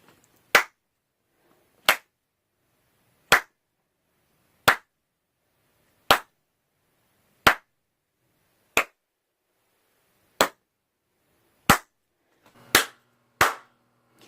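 Hand claps in a studio room under acoustic testing, eleven sharp isolated hits at steady intervals, each with a quick decay into quiet, the final ones arriving in tighter succession.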